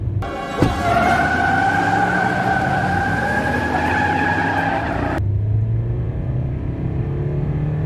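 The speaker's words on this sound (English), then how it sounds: "That's the acceleration." A used car for sale is floored during a test drive, its engine roaring loud and steady with climbing tones for about five seconds before the sound cuts off sharply, leaving a low rumble of cabin and road noise.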